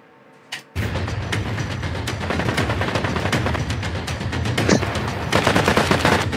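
Gunfire in the Duckside game trailer begins after a brief quiet moment and a single thump: sustained loud machine-gun fire and rapid shots, with heavy artillery-like booms layered throughout and growing denser toward the end.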